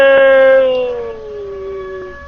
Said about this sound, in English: Mike, what's up with the sirens?